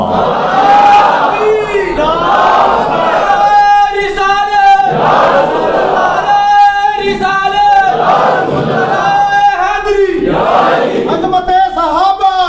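A large gathering at a religious speech chants slogans in loud rhythmic unison, with repeated call-and-response waves of massed voices filling the space.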